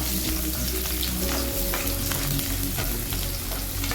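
Garlic cloves, halved, frying in hot oil in an iron kadai on low flame: a loud, continuous crackling sizzle close up, steady throughout with no voices.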